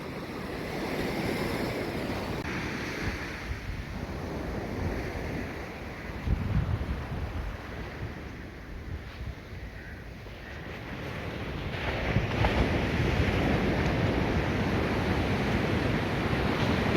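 Waves breaking and wind blowing on Pattenham Beach, a continuous rolling surf wash with gusting wind buffeting the microphone, swelling and easing in loudness throughout.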